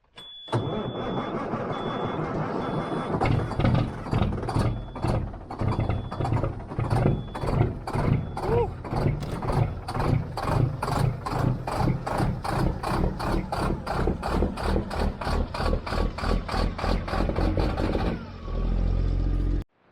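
A truck engine fires up and settles into a steady, loud rumble that pulses rhythmically as it warms up, then dies off near the end; no talking.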